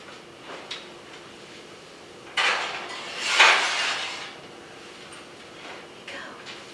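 A metal pan holding an Italian custard cheesecake is set back into a kitchen oven, giving a couple of sharp metallic clatters and a scrape over a low, steady room hum, with no talking.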